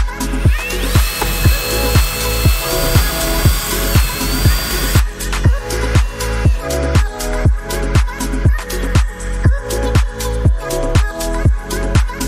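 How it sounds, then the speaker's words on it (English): A power drill drives screws into a wood frame in a steady series of short, repeated bursts, close and loud, with a tool whine in the first few seconds. "pre-drill and countersink the screws that will hold the plexiglass onto the wood frame"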